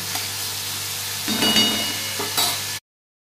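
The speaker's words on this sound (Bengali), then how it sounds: "দিয়ে এর মধ্যে সব মিশিয়ে ভালো করে ভেজে নেবো এটাকে" Whole cumin and garam masala spices frying in hot oil, a continuous close sizzle with brief stirring scrapes before cutting off abruptly.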